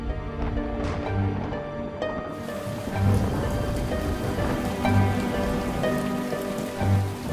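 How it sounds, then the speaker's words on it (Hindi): Steady rain falls on surfaces, a dense, continuous hiss of drops with a few soft low rumbles mixed in, and no voices. "फिर से बारिश शुरू हो गई।"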